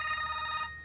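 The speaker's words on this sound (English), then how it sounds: "That's the phone." A brief electronic telephone ring inside a steampunk-style airplane cockpit before takeoff, a single steady tone lasting under a second against low engine hum.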